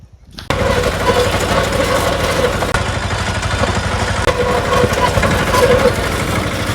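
A tractor engine runs for a trip out to the farm field, a steady loud mechanical rumble with a fast regular pulse that starts abruptly after a brief quiet moment and holds throughout.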